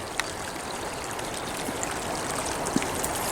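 A creek flows over its rocky bed in California's El Dorado National Forest, a continuous broad rush of water with faint trickles and splashes, steady and close, with no voices.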